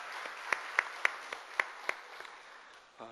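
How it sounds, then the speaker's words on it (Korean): Scattered hand claps from a small church congregation at a dawn service, several sharp distinct claps spaced irregularly, fairly faint against a quiet room. "우리 하나님께 영광의 박수 올려드리겠습니다."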